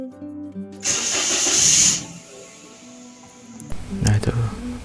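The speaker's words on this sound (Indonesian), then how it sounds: "lalu kita nyalakan mesinnya. Nyalakan mesin, biarkan langsam selama maksimal 10 menit" A Toyota Agya 1.0-litre car engine cranks and starts, a loud burst of starter whine and catch that settles into quieter idling, with a person talking before and around it.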